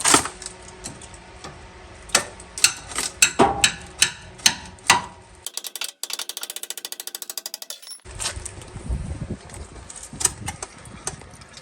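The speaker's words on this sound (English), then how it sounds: "take this hammer, beat this off right now." Sharp metallic hammer blows ring out one after another at an irregular pace on a Ford Super Duty truck's shock and spring tower, broken by a burst of rapid mechanical rattling before the striking resumes.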